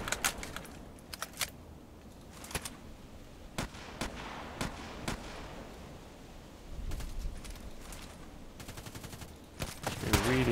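Enemy gunfire rings out in an online shooter game as scattered, sharp shots, some near and some distant, popping irregularly over a low background with occasional clustered bursts.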